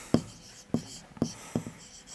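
Fractions being written by hand during a Class 6 maths lesson: four short, scratchy strokes spaced roughly half a second apart, close and fairly quiet, with no voice over them.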